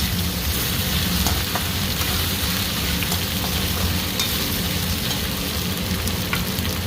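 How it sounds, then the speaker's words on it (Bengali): Onion with ginger-garlic paste frying in a pan for masaledar rajma, a steady close hiss of sizzling oil with faint scraping of a stirring spoon throughout, no voices. "আদা রসুনের পেস্ট পেঁয়াজও ভাজা হয়ে গেছে, আর যেটুকু ভাজার দরকার টমেটোর সাথে হয়ে যাবে।"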